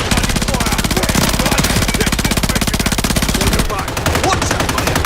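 Rapid automatic gunfire in a video game, a dense stream of sharp bursts firing nearly without pause, loud and close, with a brief break near the end before resuming.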